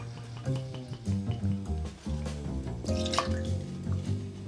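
Acérum, a maple spirit, is poured into a rum cocktail being mixed. A close, gurgling trickle of liquid splashes and drips into the vessel for a few seconds, with an uneven bubbling rhythm and no talk.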